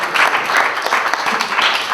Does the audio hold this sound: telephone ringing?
no